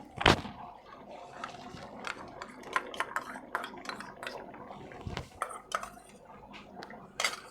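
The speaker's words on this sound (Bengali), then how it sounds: "এবারে দিয়ে দিচ্ছি টক দই 100 গ্রাম, আমি ফেটিয়ে রেখেছি ভালো করে।" Whisked sour yogurt, about 100 grams, added to a pot of chicken rezala, with scattered clinks and taps of a spoon against the pot and bowl, a few sharper knocks, and soft squelching, close-up and alone.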